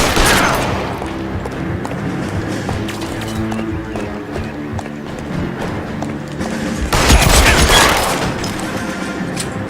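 Gunfire rings out in the L.A. Noire video game as a dense, loud fusillade of rapid shots that runs throughout, with a heavier burst partway through.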